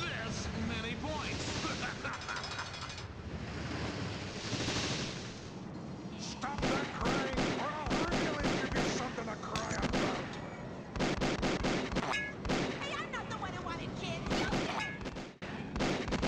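Shooting in the rail shooter Mystic Midway 2: Phantom Express on CD-i, dense game audio with rapid bursts of gunfire layered over loud music and effects, continuous and busy throughout.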